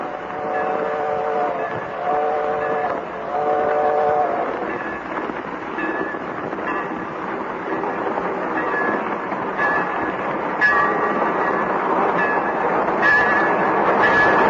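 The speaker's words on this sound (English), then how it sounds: "here comes that train again" A Great Northern Railroad train rolls past, a loud, sustained rumble and clatter with horn-like tonal blasts near the start, building and staying dense throughout.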